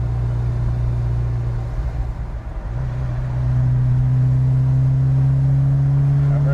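An old Ferrari, rebuilt after about 28 years off the road, drones loudly and steadily while driving. The engine pitch drops and resettles partway through as it shifts into fifth gear.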